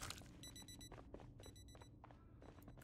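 Repeated electronic alarm beeps sound in a video game set in a mega mall at night, coming in quick bursts of rapid high tones over a steady background hum, fairly faint and separated by brief gaps.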